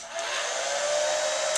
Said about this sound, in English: So here is my hair dryer at medium speed.